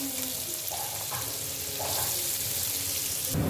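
Onion frying in hot oil with cumin, curry leaves, garlic and a pinch of asafoetida, giving a steady broadband sizzle with a few soft stirring clinks, close and fairly loud, rising slightly near the end.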